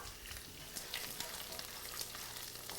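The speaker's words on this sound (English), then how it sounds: "saute the garlic and flavor the oil" Whole and crushed garlic cloves sauté in oil with a soft, continuous sizzle and scattered light crackles, fairly quiet and with no voices.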